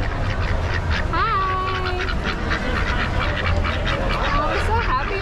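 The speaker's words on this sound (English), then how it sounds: "They're ducks. Oh, are they? I can hear them quacking." Ducks quack and honk repeatedly inside a busy animal barn at the Kentucky State Fair, over a crowd murmur while a person briefly calls out a greeting.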